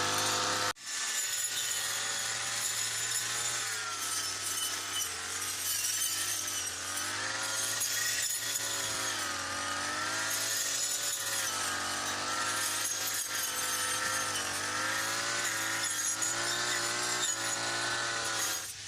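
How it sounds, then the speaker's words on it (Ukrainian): A motorized brush cutter trimmer mows weeds in a potato patch, its engine whining loudly and continuously with slight shifts in pitch as it cuts through the growth. "Спочатку пробуємо косити тримером поперек ніби непогано, але трохи незручно"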